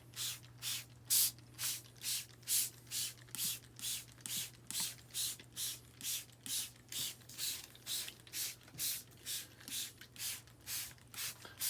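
A spray bottle of tie-dye is pumped over and over onto fabric in a steady rhythm, each short hiss of mist following the last, with a low hum underneath.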